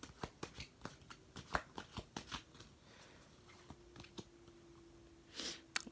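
Tarot cards are shuffled by hand in a quick run of crisp riffling snaps, close and clear, then a pause with a faint tone before a final burst of shuffling.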